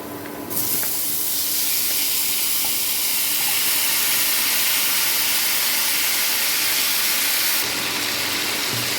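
Marinated lentils tipped into a pan of fried garlic, setting off a sudden loud, broad hiss that surges and holds steady for several seconds before easing off slightly.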